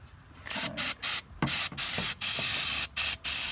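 Gumout carb cleaner sprays from an aerosol can onto a Toyota 4Runner battery tray in repeated loud hissing bursts of varying length, separated by short pauses, with no talking.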